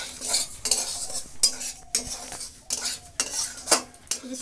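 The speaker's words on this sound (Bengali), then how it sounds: "আর একটু সুজিটা ভেজে নেব" Semolina with bay leaves frying in a pot, stirred with a metal spoon that scrapes in steady repeated strokes, each stroke bright and scratchy, close and fairly loud with no talk.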